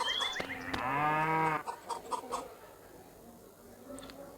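A cow in the video game Meena 2 gives a long, clear moo, with a clucking farmyard chicken in the same scene, followed by fainter background game sounds.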